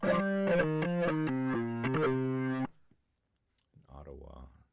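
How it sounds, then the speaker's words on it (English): Synthesized notes from a digital piano run through an auto wah effect, giving a rapid sequence of distorted, sweeping tones for a few seconds, followed by a short pause and then a brief burst of talk. "We got an auto wah."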